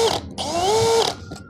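A Bosch GSB185-LI cordless brushless impact drill runs close up with its trigger pressed, giving a loud, steady motor whine that rises in pitch and then cuts off after about a second.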